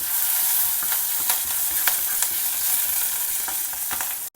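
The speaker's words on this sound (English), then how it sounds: "when the dal is browned, add some fresh curry leaves." Fresh curry leaves sizzle and crackle in hot oil for a dal tempering, a steady close frying hiss broken by scattered sharp pops, with no voices.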